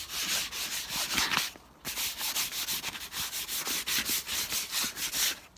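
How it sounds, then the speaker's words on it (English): Sandpaper rubs back and forth across a leather sofa in quick, even strokes, a close, rhythmic rasping scrub with a brief pause partway through and no voices. "sanding here and there"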